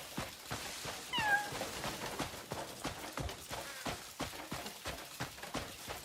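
A cat meows briefly in the Crimson Desert video game, a short faint call heard over steady rhythmic hoof-like footsteps and background game sounds.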